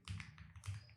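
Close, quiet keystrokes tap on a computer keyboard while typing into a web browser's address bar, a few quick uneven taps in about a second with no talking.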